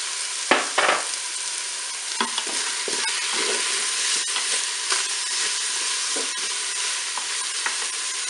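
Chopped onion and shrimp sizzle steadily in a Cookeo multicooker pot, with a few sharp scrapes and clinks of a stirring utensil over the constant frying hiss.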